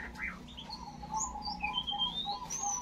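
A perkutut kantong semar zebra dove gives soft, repeated cooing notes with a few thin chirps, fairly faint over a low background hum.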